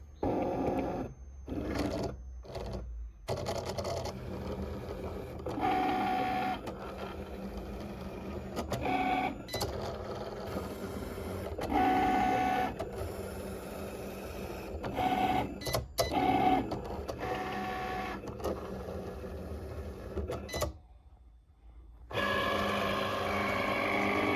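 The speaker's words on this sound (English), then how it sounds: "So now I'm just going to go ahead and press go on my Cricut." A Cricut cutting machine cuts cardstock: mechanical whirring and buzzing passes sweep back and forth with motor whines and short pauses, fairly loud and close, running steadily for over twenty seconds with a brief quiet gap near the end.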